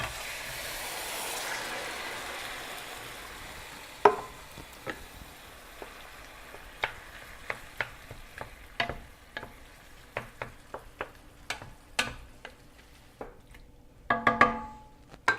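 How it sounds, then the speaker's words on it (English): Diced tomatoes cooking in a pan for puttanesca sauce, a soft background sizzle broken by frequent sharp clicks and taps of a utensil stirring, moderately quiet with no talk. "And I'm going to add my tomato. This is my diced tomatoes."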